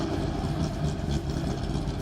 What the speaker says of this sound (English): It's an inline 6-cylinder International harvester engine.